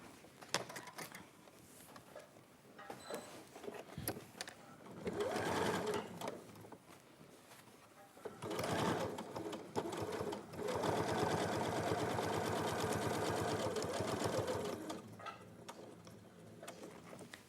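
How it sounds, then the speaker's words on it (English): A sewing machine stitches a quilt in several bursts of steady, rapid whirring and ticking, close and fairly quiet, with pauses between runs. "So you want to be stitching down here."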